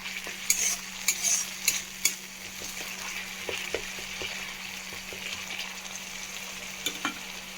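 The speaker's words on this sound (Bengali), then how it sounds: "ভালোভাবে মশলাটা একটু কষিয়ে নিচ্ছি" Masala paste for Bhola fish curry is stir-fried in a pan, a steady close sizzle with repeated spatula scrapes and clicks that cluster early and ease off, under a faint low hum and no talking.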